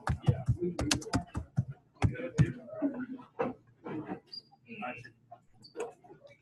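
Keys on a computer keyboard clatter in a quick burst of close clicks, then thin out into scattered taps mixed with faint voice-like sounds and soft noises.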